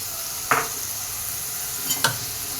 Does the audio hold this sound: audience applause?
no